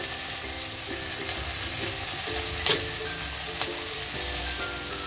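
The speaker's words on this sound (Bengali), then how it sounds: "আর একটু নাড়াচাড়া করবো। নাড়াচাড়া করলাম।" Peas, soaked and green, stirred into rice frying in a pan for fenugreek methi rice: a steady sizzle with scraping stirs throughout, close and moderately loud, no talking.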